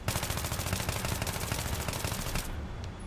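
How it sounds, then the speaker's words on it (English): An AEK-971 assault rifle fires on automatic in the Battlefield 3 video game at medium range, a dense, loud, rapid stream of shots lasting about two and a half seconds before cutting off into a brief fading tail. "let's go ahead and shoot the weapon there"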